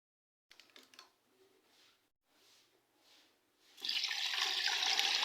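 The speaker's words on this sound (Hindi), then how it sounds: "तो इसमें तकरीबन 3 से 4 लीटर मैं इसमें पानी ऐड करूँगी।" Water poured into a cooking pot of about 2 kg of bones for a paya-style bone curry, a steady loud rush that starts partway through and continues to the end after some quieter kitchen sounds.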